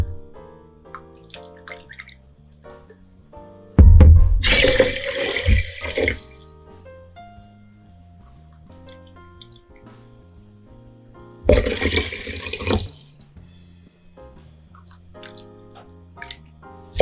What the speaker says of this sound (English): Then you're going to pour your water into your cup measure.